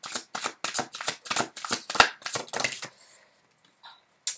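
Playing cards riffled and shuffled for a tarot-style reading, a rapid run of crisp papery flutters and taps for about three seconds, close and fairly loud, then a few soft card placements in near silence.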